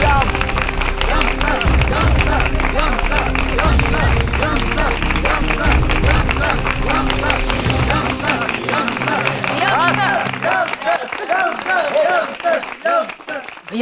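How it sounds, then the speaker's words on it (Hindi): Loud, sustained clapping and applause from a crowd at a comic TV show, dense and continuous for several seconds before thinning out, with background chatter mixed in. "ये देखो हमारे दुश्मन दूसरे दुश्मन के लिए तालियां बजा रहे हैं"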